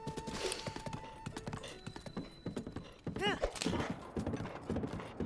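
Horse hooves clip-clopping at a run in The Legend of Zelda: Breath of the Wild, steady rhythmic footfalls under game music and someone talking, with a brief whinny-like burst midway.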